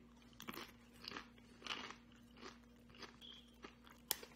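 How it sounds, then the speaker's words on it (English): Quiet, close crunching bites into a fish ceviche tostada on a crisp tortilla, a series of brittle crunches at roughly half-second intervals with soft chewing between and one sharp crackle near the end. "I put some of it on the tortilla, and then I eat it"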